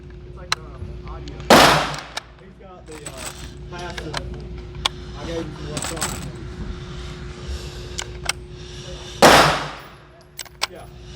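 .223 rounds fired from an AR pistol outdoors, two loud sharp gunshots several seconds apart with smaller clicks and pops between, heard under quiet voices.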